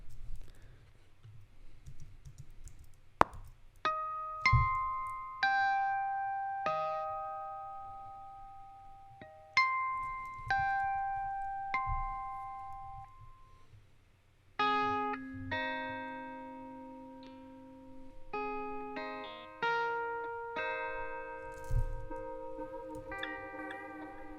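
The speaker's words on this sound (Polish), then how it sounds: "mamy tutaj właśnie piękny sound z Marshalla Jubilee" A hollow-body Hofner electric guitar through a Marshall Jubilee amp plays clean, sparse notes and chords, each plucked attack ringing out and decaying under a faint amp hum, with no talking.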